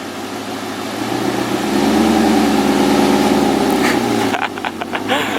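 A Nissan 350Z or Audi R8 engine idles steadily during a hill start test, a loud low rumble that swells slightly and holds before fading into light rustling.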